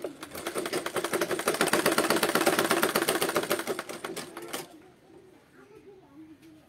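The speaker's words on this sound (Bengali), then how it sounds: "এখন সেলাই করে দেখাচ্ছি" A sewing machine stitches a neckline in a steady rapid needle rhythm, loud and close for about four and a half seconds before it stops, leaving faint room noise and a few soft sounds.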